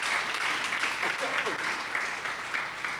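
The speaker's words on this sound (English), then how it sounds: "You should applaud for that." Audience applause from a festival panel crowd, a steady dense wash of clapping sustained for about three seconds with some cheering mixed in.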